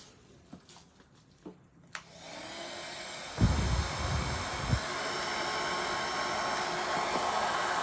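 An electric hair dryer switches on partway through and runs steadily as a loud, even blowing roar, preceded by a few faint clicks and handling taps.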